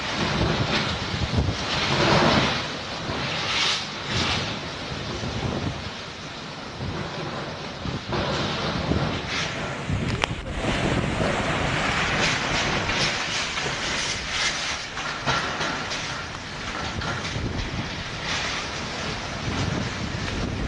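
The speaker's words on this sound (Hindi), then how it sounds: "तेज रफ्तार से हवा चल रही है। लगभग 90 से 110 किलोमीटर प्रति घंटे की रफ्तार से हवा चल रही है। आवाज सुनिए आप।" Strong cyclone winds from Cyclone Nisarga roar nonstop near the Mumbai coast at about 90 to 110 km/h, with a dense, rumbling rush that swells and gusts throughout and no talking.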